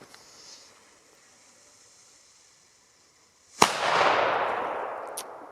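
A single sharp Tiger Bomb firecracker bang, followed by a lingering hissing roar and a small pop near the end, outdoors with no talking.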